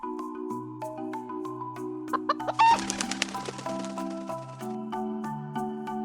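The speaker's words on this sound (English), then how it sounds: "Where did these chickens come from?" Chickens cluck in short bursts over steady background music, with a brief flurry of louder squawking and flapping in the middle.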